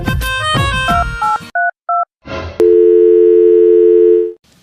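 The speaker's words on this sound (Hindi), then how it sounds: "मिलाओ भाई, फोन मिलाओ।" A phone melody chimes, then paired dialing beeps, followed by a long steady telephone tone that cuts off abruptly.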